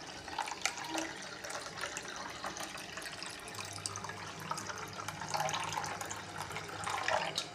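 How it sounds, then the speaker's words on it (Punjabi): Water poured from a tap or jug into a bowl of semolina, a steady close splashing and filling stream with slight rises in level, no voices. "ਕੋਲੇ ਨੂੰ ਆਪਾਂ ਨੇ ਪਾਣੀ ਨਾਲ ਭਰਤਾ"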